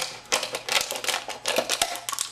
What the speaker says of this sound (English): I'm gonna grab my pair of scissors here and I'm just gonna cut off the bottom of it